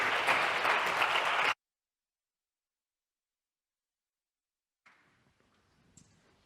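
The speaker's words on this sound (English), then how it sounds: "So give up a last round of applause for Morten." Audience applause at the close of a talk on psychedelics and neuroplasticity, a loud burst of clapping lasting about a second and a half, then silence, with faint room noise and small knocks afterward.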